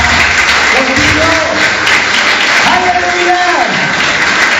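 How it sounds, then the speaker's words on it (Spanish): Congregation in a church service applauds steadily, a dense wash of clapping that continues under a voice speaking and sustained sung or held tones. "Si te da de fuerte aplauso a nuestro Rey"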